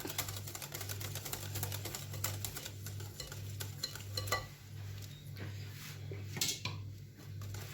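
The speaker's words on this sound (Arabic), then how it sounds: "ونقلب برضو" Biscuit dough mixture with milk added is stirred in a bowl, giving repeated close scraping and clinking strokes over a steady low hum, with no speech.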